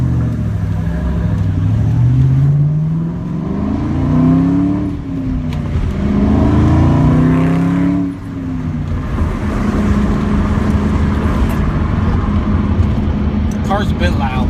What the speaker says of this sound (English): Car's a bit loud.